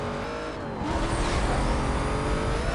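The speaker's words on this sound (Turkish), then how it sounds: "Yine önde çok hızlı bir araba var." A fast Mustang racing in Need For Speed Most Wanted, its engine roaring loud and continuous with rising revs as another speedy car runs just ahead on a winding road.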